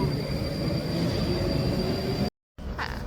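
A Moscow metro train rumbles steadily from inside the carriage, a loud continuous roar with a faint high whine, briefly cut off near the end before resuming.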